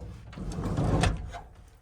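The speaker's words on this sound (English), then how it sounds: "Let me close this door." A door is pushed shut indoors, giving a brief muffled sliding thud with a soft rattle near the middle, close by and moderately loud.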